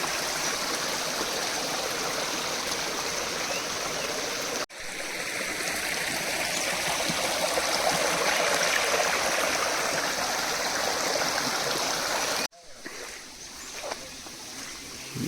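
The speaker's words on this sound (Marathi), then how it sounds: "हे पाणी ना आपण पिऊ पण शकतो फ्रेश पाणी असतं" Fresh forest stream water rushes and burbles in a continuous close wash, with two abrupt cuts; the last stretch is quieter.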